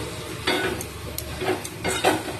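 A spoon scrapes and stirs thick masala loosened with a little water in a pan, giving a few rhythmic sweeps over a soft background sizzle, close and moderately loud.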